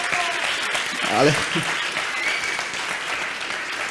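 An audience at an Odoo conference in Spain applauds in a steady wash of clapping, with a speaker talking briefly over it.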